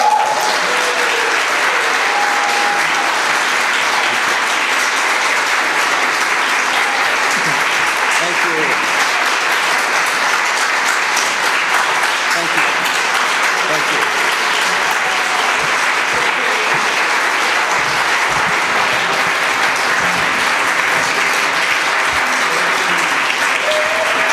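Audience applauding after a song at a live set by a performer named Tom, a long, loud, even wash of clapping from many hands, with a few voices in the crowd.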